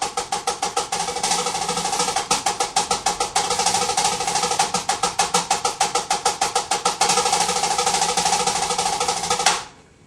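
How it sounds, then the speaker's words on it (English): A simple drum exercise alternates measures of steady 16th notes with buzzing rolls, played as rapid, even strokes at close range. It is loud and continuous for about nine seconds, then stops abruptly with no talking. "Let's take a real simple roll exercise."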